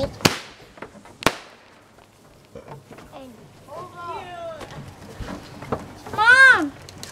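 Backyard fireworks go off outdoors, with a couple of sharp bangs early on followed by rising whistling and crackling, while people talk and shout excitedly nearby.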